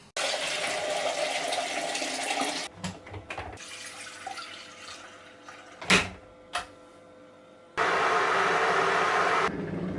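Water runs from a tap in a steady rush into a kettle for tea, stops for a few seconds with small clunks and a splash, then gushes again near the microphone.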